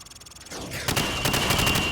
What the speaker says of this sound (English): Shoot each target while aiming down the sights.